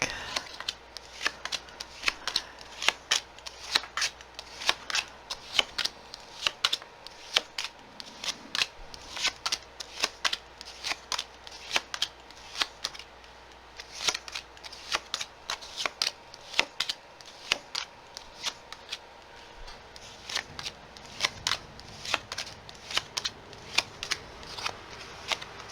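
Tarot cards shuffled steadily in the hands for a long stretch, a brisk run of soft papery riffles and snaps, close and fairly quiet, with no talking.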